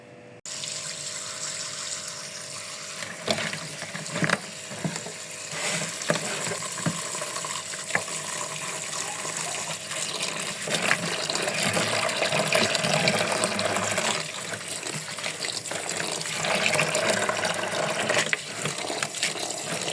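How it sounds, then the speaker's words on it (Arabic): Wild thyme is rinsed under a running kitchen tap to wash off soil, a steady splashing water stream with irregular spatters and handling sounds throughout, fairly close and with no speech. "باش غادي نغسل هاد الزعتر هذا، نغسلو مزيان من التراب"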